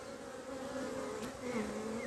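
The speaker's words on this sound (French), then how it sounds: "là il y a beaucoup d'abeilles" Honeybees buzzing around an open hive during honey-super work, a dense steady drone of many insects close to the microphone, continuous and unbroken with no voices.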